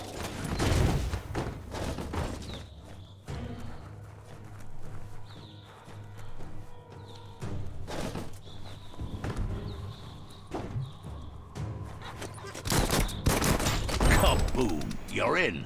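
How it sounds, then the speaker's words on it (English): Biomutant gameplay: sharp gunshots crack at irregular intervals, followed by a heavy explosion and a burst of loud debris near the end, with narrated voice lines and a low ambient hum underneath. "Shoot it and watch it blow."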